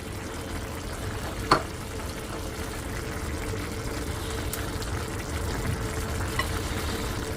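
Shrimp and chilies fry in a pan with a steady, soft sizzle throughout, broken by a single light clink of a utensil and a few small crackles.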